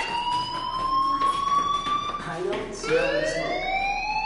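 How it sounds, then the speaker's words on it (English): A fire alarm wails in the video game Life Is Strange, a loud rising and falling electronic siren tone that sweeps continuously, with speech heard faintly beneath it. "Hey, do you hear that fire alarm?"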